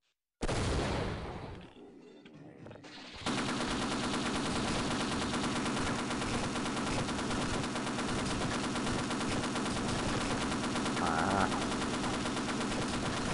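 A mounted machine gun in Half-Life firing a long, unbroken stream of loud rapid shots after a short opening burst, a dense roaring rattle that keeps going steadily to the end.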